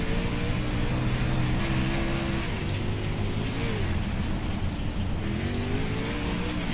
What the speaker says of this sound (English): Shad Prescott has a fast race car here tonight at the dirt track at Charlotte